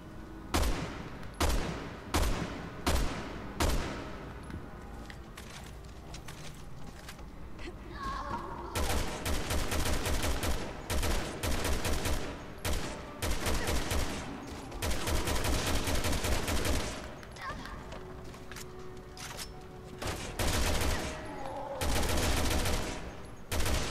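Rapid gunfire in Resident Evil 6: bursts of sharp shots and sustained automatic fire come in dense volleys with brief pauses. A voice is faintly present beneath the shooting.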